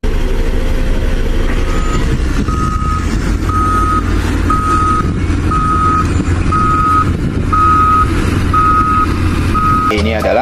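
A toy excavator (mobil beko) sounds a steady run of evenly spaced reversing beeps, about one per second. They sit over a constant rumbling, whirring mechanical noise and are loud and close throughout.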